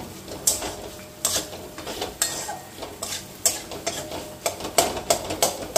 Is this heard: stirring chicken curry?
yes